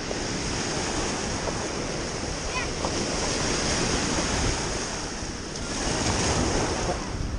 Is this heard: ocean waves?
yes